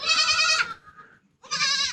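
Goats bleat in the early morning at a desert village home in India, two loud, close, quavering cries separated by a brief quieter gap.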